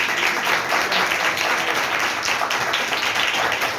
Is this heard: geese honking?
no